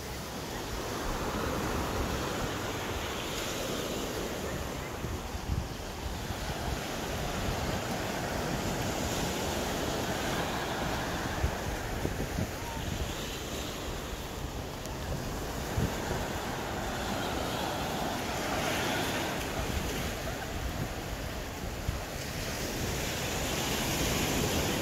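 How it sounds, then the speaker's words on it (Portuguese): Ocean waves break steadily on a long sandy beach at Balneário Daniela, Florianópolis, a constant broad wash of surf mixed with wind that rolls on without pause. "Só fica ouvindo, ó, o barulho das ondas."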